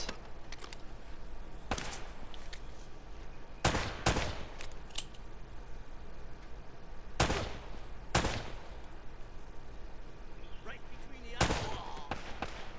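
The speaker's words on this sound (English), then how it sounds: "Got us an AK-47, and we're gonna burn it down" AK-47 gunfire in Uncharted: Drake's Fortune, with loud single shots and short bursts scattered across a busy, steady background of game ambience, some shots doubled in quick pairs.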